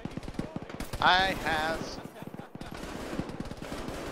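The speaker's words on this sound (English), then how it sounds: "An MG3 just got a lot of kills." MG3 machine gun fire in the tactical shooter game Arma rattles out as rapid, sustained bursts of close gunshots, while someone talks over the shooting partway through.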